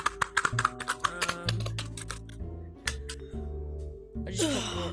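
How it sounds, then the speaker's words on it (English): Keys on a computer keyboard are tapped in quick bursts of close, crisp clicks, with pauses and a brief burst of other noise near the end. "I'm just typing."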